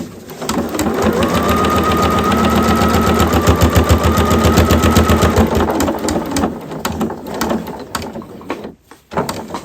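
A sewing machine stitches and backstitches through quilted quilt-coat fabric, a loud close rapid mechanical clatter running steadily, then slowing and breaking into short bursts and pauses near the end.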